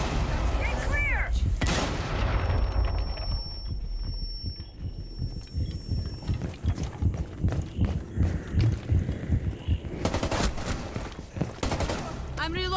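In Rainbow Six Siege, a frag grenade goes off with a loud, close blast, followed by a long stretch of rapid rumbling thuds and gunfire, then more heavy booms near the end, with voices briefly heard.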